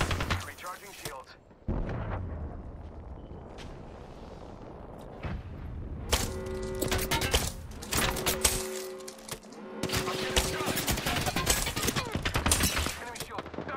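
Rapid bursts of gunfire ring out in the Apex Legends battle-royale game, loud and close, with sharp volleys and crackling sustained fire, interrupted by short gaps and electronic game tones.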